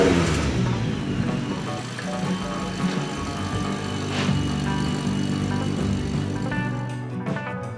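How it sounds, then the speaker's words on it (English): A Nissan 240SX engine, newly fitted with a Pyrotect fuel cell, starts and settles into a steady, loud, close idle running continuously with no talk over it. "And now the first startup on the fuel cell."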